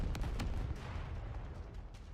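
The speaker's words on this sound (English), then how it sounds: "You can hear the screams and the gunshots and stuff." Gunfire crackles in the video game NIKKE as a demonstration is violently suppressed: loud, dense volleys of shots and booming bursts over a rumbling low din, with no clear screams standing out.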